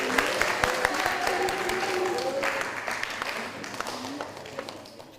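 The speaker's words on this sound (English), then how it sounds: "Give them a round of applause, everybody, please." Audience applause at a microbiology talk, a moderately distant patter of many hands, with voices heard over the clapping.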